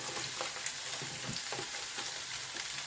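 Fennel hits hot olive oil in a pan and sizzles with a steady, close, broadband hiss, broken by a few soft stirring scrapes, with no voices.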